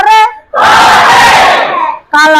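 A classroom of physics students shouts a loud group cheer of hooray, a single sustained burst of many voices lasting over a second, with a short sung phrase just before and after.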